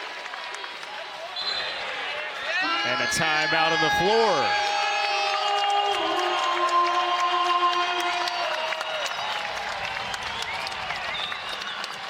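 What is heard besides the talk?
basketball arena crowd applauding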